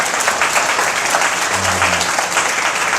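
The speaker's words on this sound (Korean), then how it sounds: "박수 한번" A forum audience applauds after a speaker's remarks, giving a steady wash of clapping across the whole three seconds. A brief low hum runs partway through, and the applause stays loud from start to finish.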